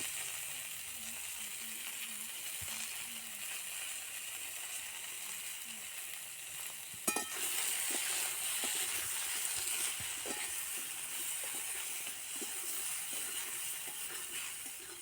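Turmeric powder fries in a pan over a coal-briquette fire with a soft, steady sizzle. A sharp clatter midway is followed by a slightly stronger frying hiss, all fairly faint.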